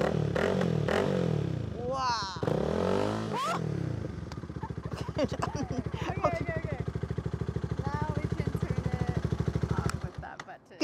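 A Honda Rebel motorcycle engine thrums steadily and close by as the bike gets ready to ride off, its loud, even throb running under the talk and excited voices at the start.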